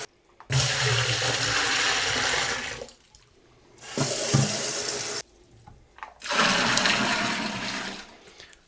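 Hot tap water gushing into a brewing vessel in three separate bursts, loud and close, each pour lasting a few seconds with short quiet gaps between.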